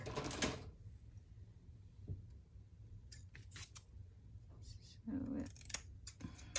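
Scissors snip through leftover scraps in a few short, close bursts, with quieter handling noise between the cuts.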